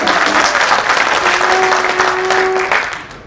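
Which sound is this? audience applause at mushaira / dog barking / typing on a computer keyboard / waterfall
audience applause at mushaira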